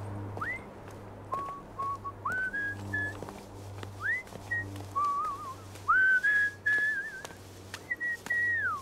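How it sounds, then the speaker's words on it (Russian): A person whistles a tune in short, clear melodic phrases with gliding notes, close and fairly loud over a low steady hum in the background. "Не свисти"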